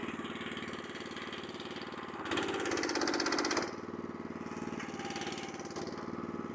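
Small engine driving a hydraulic log splitter rated at 27 tons, running on bypass: a steady mid-pitched drone that swells louder for about a second in the middle as load comes on, then settles back to an even run.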